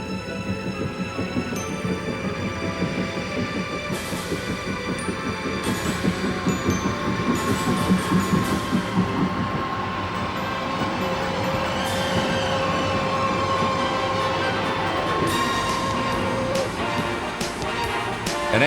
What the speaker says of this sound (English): The two locomotives are coupled and present a spectacular sight powering their way into the